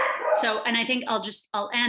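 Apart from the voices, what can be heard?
dog barking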